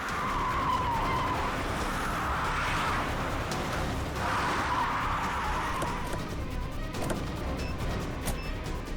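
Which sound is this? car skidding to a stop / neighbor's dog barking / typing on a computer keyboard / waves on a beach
car skidding to a stop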